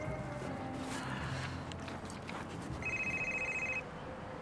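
A telephone ringback tone while a call is placed, a faint steady electronic ring pulsing late in the clip over low background noise, no talking.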